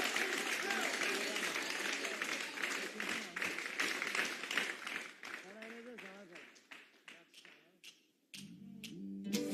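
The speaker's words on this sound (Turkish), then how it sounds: "Gürültü alkışlar." An audience breaking into applause: loud clapping that thins into scattered, separate claps and then gives way to music near the end.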